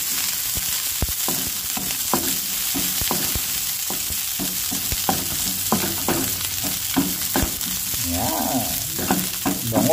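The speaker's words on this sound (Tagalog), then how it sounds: "Gisa natin ngayon mga kabayan para magka-aromatic gisa flavor. Luya, bawang, sibuyas." Ginger, garlic and onion sautéing in hot oil in a pan, a constant close sizzle broken by frequent scraping stirs of a spatula, loud and steady throughout without any talking.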